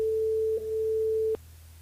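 A telephone line rings out while a radio host calls a listener named Sarah back during a live call-in show, giving a steady single tone with a brief break partway through, then cutting off near the end.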